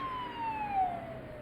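A police siren wails outside, its tone sliding steadily downward as it passes at a distance, faint under a low hum of background noise.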